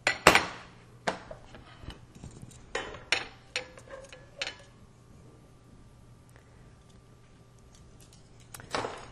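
Plates handled while serving pork chops with red wine sauce, with sharp ceramic clinks and knocks scattered across the first few seconds, close and distinct, then quieter pauses before another clink at the end.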